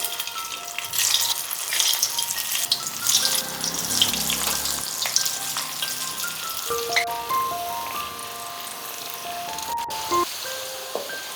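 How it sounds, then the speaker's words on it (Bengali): Lentil cakes (dhoka) fry in hot oil, a continuous crackling sizzle with small pops and clinks, at a moderate level and with no talking. "তেল বেশ ভালো করে গরম হয়ে গিয়েছে, সেই সময় ধোকাগুলো একে একে ভেজে নেব"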